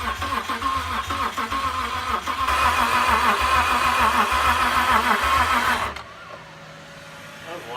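A car engine cranks and catches after an engine swap, running loud and rough for several seconds before cutting off, with people talking and cheering over it.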